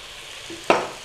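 Fish and celery in a Thai home-cooked stir-fry get a quick stir in the pan after the flame is turned off: one brief, close scraping swish over a faint sizzle.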